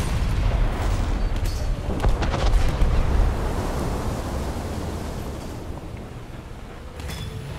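Guns fire in a naval battle video game, heard as deep rumbling booms and blasts layered into a continuous roar, loudest in the first half and then easing off, with no talk.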